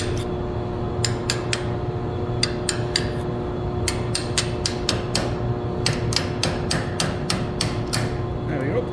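Metal tool taps a stuck bolt seated in an extractor socket, a steady series of sharp, close clanks in irregular clusters over a low background hum.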